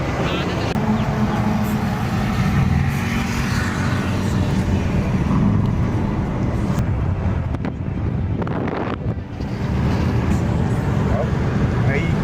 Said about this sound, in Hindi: चला रहा है गाड़ी, और चला नहीं रहा, उड़ा रहा है ये तो।